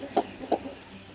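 A hen on an Alaska homestead gives two loud, close clucks in quick succession, followed by softer muttering clucks that trail off.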